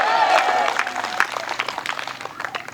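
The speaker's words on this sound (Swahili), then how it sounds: "Pigia Yesu makofi" A church congregation applauding in a short, scattered burst of clapping, moderately faint and fading toward the end.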